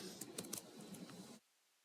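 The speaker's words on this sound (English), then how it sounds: "I'm typing something like Microsoft Power App" Quick bursts of keystrokes on a computer keyboard, close and faint, run for just over a second and then stop.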